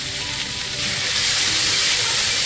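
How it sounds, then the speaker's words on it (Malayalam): Onion and ginger-garlic paste fry in coconut oil and ghee with a loud, steady sizzling hiss that swells slightly as the pan is stirred. "സവാള ശേഷം ചേർത്ത് നമുക്ക് ഇഞ്ചി വെളുത്തുള്ളി പേസ്റ്റ് ഇട്ട് നല്ലപോലെ ഇളക്കിയെടുക്കാവുന്നതാണ്."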